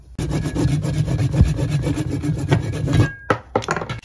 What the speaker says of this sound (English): I have these cutters and a saw because sometimes you will need a saw to make a more in-depth cut